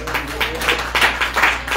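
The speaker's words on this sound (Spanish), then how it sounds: "Dame un aplauso al Señor" Applause at a church service in Desert Hot Springs, California, a short burst of scattered hand clapping from a congregation, moderately loud, with voices mixed in.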